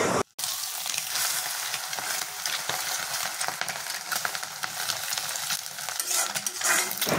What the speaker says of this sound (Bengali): তেল দিয়ে আমি দেখো একটা ডিম ভাজা করতে দিয়ে দিয়েছি